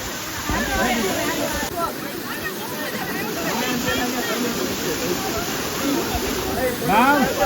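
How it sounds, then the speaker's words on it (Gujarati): A big waterfall with strong flow roars in a steady broadband rush, while people talk and call out over it and a high whistling tone cuts in near the end. "ઓલો મોટો ધોધ છે."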